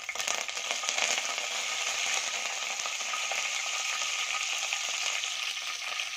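Chana dal and curry leaves fry in oil over a low flame, a steady, even sizzle and fine crackle that holds close and moderately quiet throughout.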